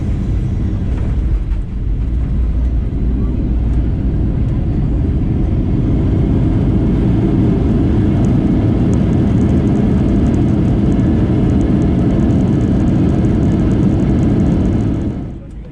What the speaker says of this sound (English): We touched down slightly behind schedule just after 2 in the afternoon.